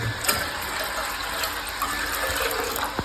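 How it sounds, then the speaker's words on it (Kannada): Water runs steadily from a tap to cook Maggi noodles, a continuous rushing splash that stays loud and even throughout, with faint clicks mixed in. "ನೀರು ಬಿಟ್ಕೊಡ"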